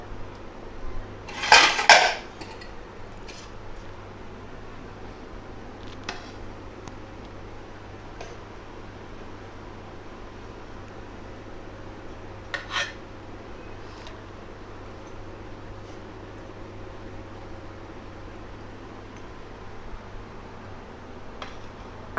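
A spoon serves pressure-cooker Hyderabadi chicken dum biryani onto a plate. There is a short cluster of clinks and scrapes near the start, then a few faint, sparse taps over a quiet room.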